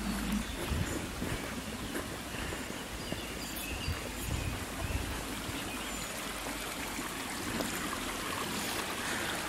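Forest creek water rushing steadily down a steep, sloping bed, a continuous close broadband wash of flowing and splashing water with no pauses.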